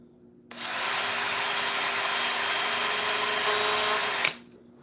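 A drill starts abruptly and runs at a steady, loud whine for about four seconds before cutting off, with quiet on either side.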